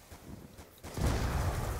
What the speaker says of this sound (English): Ah, explosion.